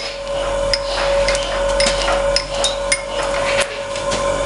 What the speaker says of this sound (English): actually start by grinding 2 parallel phases, and then we'll do the other 2.